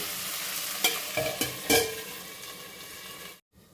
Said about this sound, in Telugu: వీటి మీద ఒక మూత పెట్టి మధ్య మధ్యలో కలుపుతూ మనం వీటిని కొద్దిగా ఫ్రై చేద్దాము